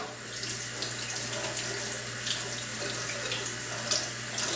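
Cold water runs steadily from a tap over a thick glass bottle, a continuous close splashing rush with no breaks for the whole stretch.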